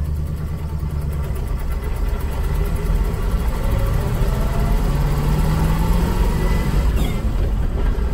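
A 1988 Land Rover Defender 130 with a V8 engine pulls away, its steady mid-low engine drone continuous and fairly loud throughout, close by with no talk.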